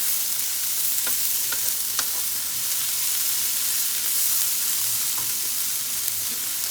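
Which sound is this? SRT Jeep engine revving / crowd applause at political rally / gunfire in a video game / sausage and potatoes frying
sausage and potatoes frying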